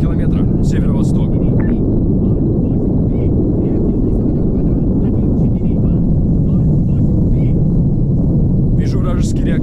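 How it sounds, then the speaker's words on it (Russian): A Russian jet aircraft in the ARMA 3 video game roars past as a loud continuous rushing rumble, with a voice speaking briefly at the start and end. "Вижу вражеский реактивный самолет."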